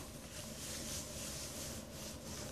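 Ink scraped and wiped dry off a surface during seam binding dyeing tests, a continuous soft rubbing and scraping hiss at close range, faint and even throughout.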